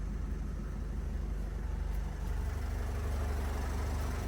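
A 2013 Opel Vivaro passenger van's 2.0 Euro 5 diesel, 115 hp, idles quietly with a low, even hum and no speech over it.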